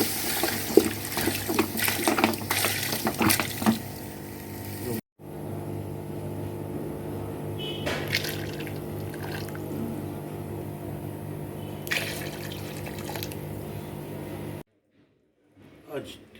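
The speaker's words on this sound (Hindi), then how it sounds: "अच्छा जी, अब इसमें डालेंगे तकरीबन 2 लीटर तक पानी।" About two litres of water poured steadily into a cooking pot for sobat, a traditional D.I. Khan dish, running close and continuous for roughly fifteen seconds with a brief break partway through.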